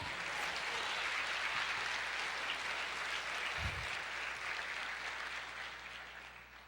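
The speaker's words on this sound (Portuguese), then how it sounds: "Pode aplaudir o Senhor" A church congregation applauding together, a dense continuous clapping that fills the room and gradually fades near the end.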